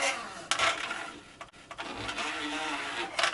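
Scraping, rasping friction as a drain auger cable is pulled back and forth inside a PVC kitchen sink pipe, with a few sharper knocks, close and steady, no talking.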